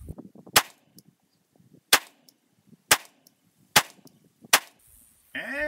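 Five sharp revolver gunshots fired single action, spaced roughly one second apart with quiet gaps, each a loud crack with a short ringing tail, followed by a brief burst of noise at the end.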